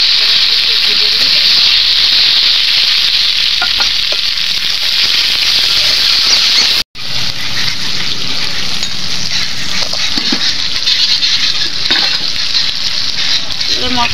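Spices fry in a pan with potatoes and tomato, giving a loud, close, steady sizzle and hiss that cuts out for an instant midway, then resumes with a few soft stirring knocks.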